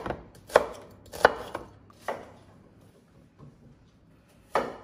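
Knife chopping red onions roughly into large chunks on a board: a handful of sharp, spaced thuds, close and fairly loud, with quiet pauses between cuts and no talk.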